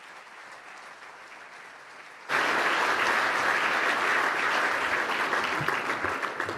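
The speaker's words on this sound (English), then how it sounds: "everybody is cheering for you" Applause from the audience at the Mercy Housing 40th Anniversary Gala bursts in suddenly after a quiet moment, then holds as a dense, steady clapping that carries loud to the end.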